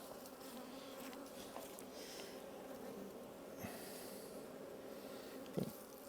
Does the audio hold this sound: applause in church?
no